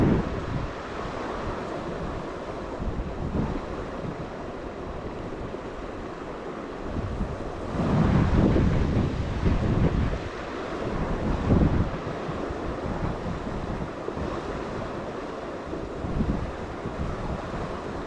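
Steady wind rumbles and buffets across an open space at a dam, gusting louder midway, with a constant rushing roar like surf behind it.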